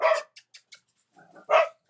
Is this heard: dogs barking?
yes